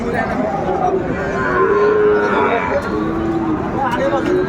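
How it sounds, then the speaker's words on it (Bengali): A Sahiwal bull calf moos at a cattle market, drawn-out low calls rising and falling under steady background talk and crowd noise. "শাহিওয়াল জাতের ষাঁড় বাচ্চা"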